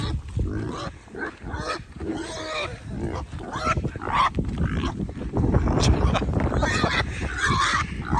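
A pet pig grunts and squeals loudly at close range in a burst of raspy, uneven calls that runs almost without a break, with a few brief quieter gaps.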